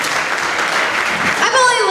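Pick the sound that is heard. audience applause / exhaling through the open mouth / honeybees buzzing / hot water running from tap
audience applause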